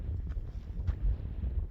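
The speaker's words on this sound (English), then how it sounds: "It's windy as hell." Wind buffets the microphone on a badlands trail with a steady low rumble and occasional gusty thumps.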